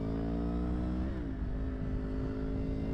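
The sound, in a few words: 1000cc motorcycle crossplane engine revving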